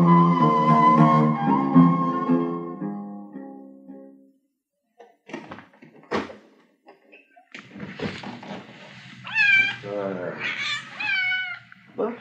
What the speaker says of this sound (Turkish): Yaramaz kediye. Gene ayaklarımın altında dolaşıyor.